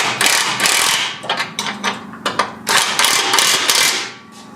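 Front differential bushing bolts on a Hummer H3 are tightened with a ratchet, giving a quick series of close, loud clicking and rattling bursts with brief pauses between them.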